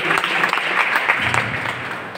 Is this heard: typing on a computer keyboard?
no